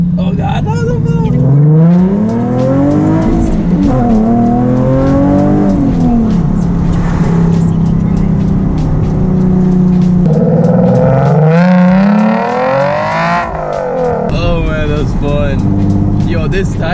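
A straight-piped Nissan 370Z accelerating hard from inside the car, its loud raspy exhaust rising through gears with repeated climbs in pitch and shifts, while someone talks over it.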